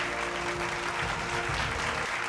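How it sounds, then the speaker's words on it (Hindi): An audience at the Bhojpuri Samman 2026 awards show applauds in a dense, even wash of clapping that holds steady throughout, with music faintly underneath. "तो एक बार जोरदार तालियां जी भोजपुरी सम्मान 2026 के लिए।"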